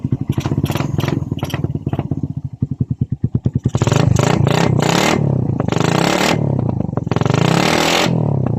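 A Suzuki Raider 150 motorcycle engine, recently fitted with a new CDI, idles with a loose putter, then revs hard several times in loud close bursts with a rough, clattery edge.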